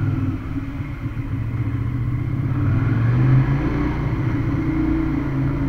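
Suzuki Gladius 650 motorcycle moving in second gear inside a garage, its engine a steady low rumble that swells slightly midway, with faint clatter in the enclosed space.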